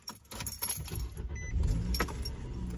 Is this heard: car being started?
yes